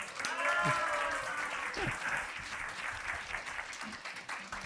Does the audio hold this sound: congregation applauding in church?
yes